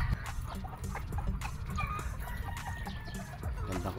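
Gamefowl chickens cluck and squawk repeatedly at close range on a game farm, over a busy, noisy background.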